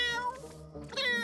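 A cartoon cat in an animated series yowls in two drawn-out, wavering meows with a short gap between them, close and clear with no talking.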